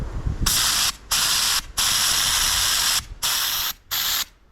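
Jeep parts being spray painted, a first coat going on in several bursts of loud hissing spray, each lasting about half a second to a second, separated by short pauses, close up with no talking.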